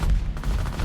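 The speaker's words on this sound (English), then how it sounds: "Fire breath." A monster's fire breath ability in the video game Evolve erupts as a dense, loud, rumbling blast that fills the whole brief moment.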